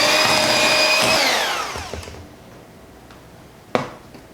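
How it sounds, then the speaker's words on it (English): An electric mixer beats butter, sugar and vanilla extract into cookie dough for ice cream sandwiches. It gives a loud, steady motorized whir for about a second and a half, then spins down to quiet, followed later by a single sharp click. "now I'm gonna beat these all together and combine them here"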